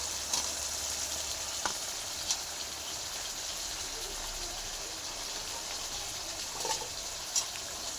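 Meat is slowly sautéed in a pan, giving a steady, moderate hiss of frying with occasional faint scrapes and ticks from stirring, heard close up with no talking over it.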